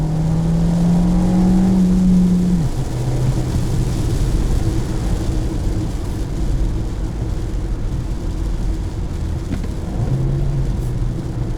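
A 2020 VW Jetta with a manual gearbox blips its engine for a rev-matched downshift, then pulls hard under full throttle, a loud close engine drone rising in pitch before settling into steady acceleration.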